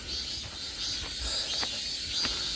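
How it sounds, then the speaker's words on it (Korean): Cicadas drone loudly along a mountain ridge trail on Gwanaksan in August, a continuous high buzzing that fills the whole stretch with a few short rising pulses over it. "아 매미 소리 시끄러울 정도네요"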